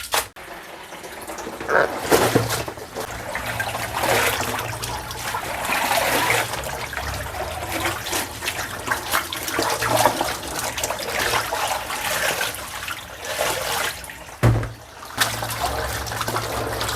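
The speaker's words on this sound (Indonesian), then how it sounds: "ini wis aku bilas 2 kali" Soaped items are rinsed under running water, a continuous close splashing and trickling flow with uneven surges and a brief pause near the end, with no talk.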